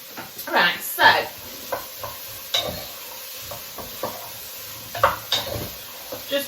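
Food browning in a pan for leek and potato soup, with soft sizzling and stirring, scattered pan and utensil clinks and brief bursts of voices over it.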